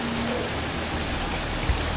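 Fast-flowing stream of water at a spring in Bali, rushing as a dense, steady broadband wash, close and continuous with no voices.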